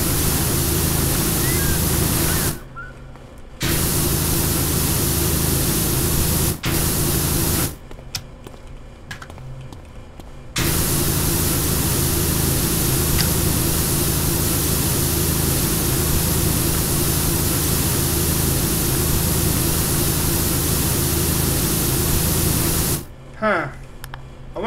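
Pressure washer spraying in PowerWash Simulator while cleaning an ancient monument, a steady loud broadband hiss that runs almost continuously, cutting out briefly a few times between bursts.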